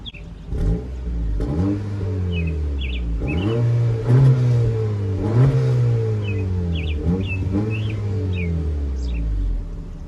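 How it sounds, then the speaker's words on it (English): A 2023 Acura Integra's 1.5-liter turbocharged four-cylinder with dual overhead cams, direct injection and VTEC, revved repeatedly from idle in several rising and falling surges, loud and close, while birds chirp faintly in the background. "give you guys a nice little rev shot of that"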